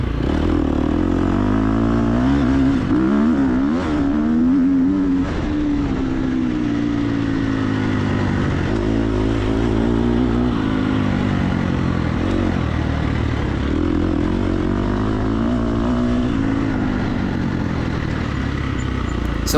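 Dirt bike engine in TORCS hare scramble off-road racing roars continuously, revving up and down through gear changes with loud, close, sustained drone and no speech.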